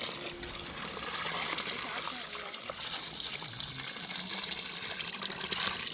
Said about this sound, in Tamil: அதோடைய சாரோடு சேர்த்து நம்ம தண்ணியும் சேர்த்துக்கிறோம்